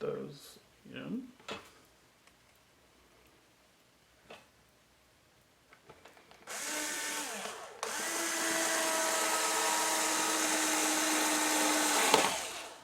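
A power drill drives 5/8 inch screws into a wooden box quad frame, with a couple of short whirring bursts followed by a long, steady, loud motor drone; faint speech is heard early on.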